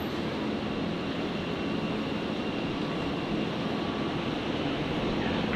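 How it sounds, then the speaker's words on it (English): A Virgin Boeing 737-800 airliner arriving at Brisbane Airport on a flight in from Melbourne, heard as a steady, loud broadband engine roar that holds evenly throughout with no voices over it. "There's our next arrival. There it is. Virgin 337. The 73800s"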